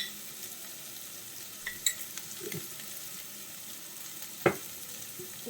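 Breadfruit stir fry being tossed and mixed in a pan, a soft steady sizzle with a few scrapes and one sharp clink of a utensil against the pan.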